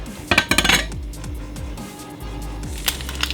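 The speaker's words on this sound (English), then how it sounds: "I'm going to cut it in half." A knife cuts through an onion on a cutting board, with a few sharp clacks of the blade meeting the board and light clinking handling noises, close and fairly loud, with no one talking.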